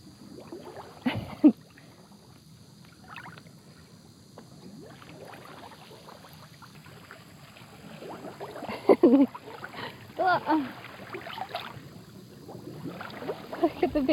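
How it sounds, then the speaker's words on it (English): Wet mud at a crocodile-country campsite, riddled with crab holes, bubbles and gurgles as trapped air escapes under footsteps, giving soft scattered pops and squelches over faint background hiss, with no talking. "When you step, all bubbles come out."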